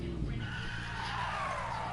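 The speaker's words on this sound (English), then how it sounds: "I just sit there and screw the throttle a little bit, get the RPMs to go up" Car engine in Need for Speed Payback revving with rising RPM, a steady loud mechanical whine climbing in pitch, with tire skid noise layered over it throughout.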